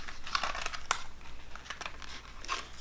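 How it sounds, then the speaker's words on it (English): Plastic packaging around a press lock purse clasp crinkles and crackles as it is opened by hand, close and fairly quiet, with irregular bursts of rustling. "Now I want to unpackage this press lock"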